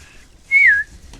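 A person gives a single sharp rising-then-falling whistle to call a horse, clear and close, after a faint brief whistle at the start, with no talking.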